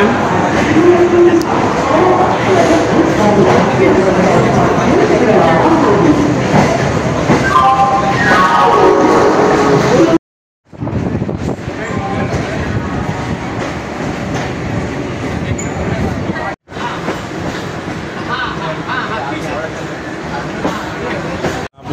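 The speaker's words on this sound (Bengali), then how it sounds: "দিল আমাদের ট্রেন।" A Bardhaman local train pulls out of the station with a continuous loud rumble and clattering wheels, briefly interrupted by short gaps, as voices are heard along with it.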